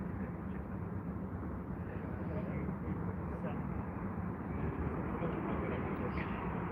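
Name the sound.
Air India Boeing 787 Dreamliner airliner at Heathrow Airport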